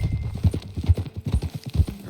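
Horse hooves clip-clop in a steady walking rhythm in Red Dead Redemption 2, close and clear, with low thuds alongside and no speech over them.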